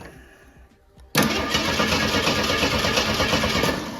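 An AMC Eagle engine cranks briefly, then catches and starts abruptly with a loud, full roar that settles into a steady rough run, close by with no talking.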